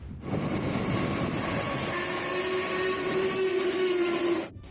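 A train rolls past on railway tracks, a loud, continuous rumble with a rising tonal whine, close by and steady for several seconds before cutting off abruptly.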